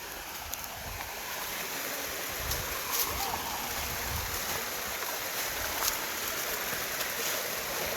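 A river stream flowing downhill near Kawa Falls in Antipolo, a steady broadband rush of water running continuously throughout with faint scattered splashes, fairly close and alone without talk.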